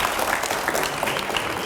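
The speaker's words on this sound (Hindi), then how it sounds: "जोरदार तालियां हो जाएं रैपिड फायर राउंड के लिए" Studio audience at a Hindi political talk show applauding, a dense, even wash of clapping hands sustained throughout at close range.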